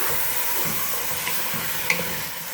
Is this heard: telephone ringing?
no